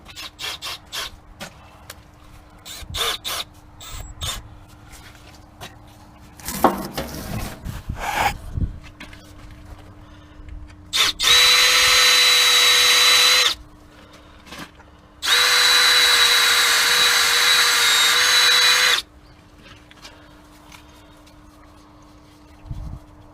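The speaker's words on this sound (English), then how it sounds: "I'll just drill it out." A power drill drills out a part of a Belle mixer in two sustained, loud whining bursts, preceded by scattered clicks, clunks and handling noises close by.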